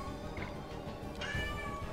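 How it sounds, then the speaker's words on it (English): A cat meows insistently, its cry rising over a busy, noisy background. "Kitty, hush."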